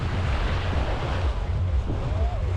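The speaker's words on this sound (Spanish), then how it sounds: "Por aquí seguramente hay menos oleaje por las ballenas estas que pusieron." Calm waves washing onto Playa Mamitas beach in Playa del Carmen, sheltered by breakwaters, a steady low rumble of surf mixed with strong wind buffeting and a faint rising whine near the end.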